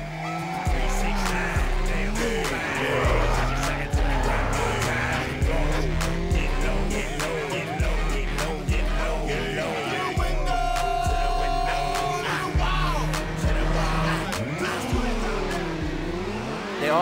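Race cars in a racing video game with drag, circuit and drift modes roar past and squeal their tires in repeated skids, engine pitch sweeping up and down over a constant loud bed.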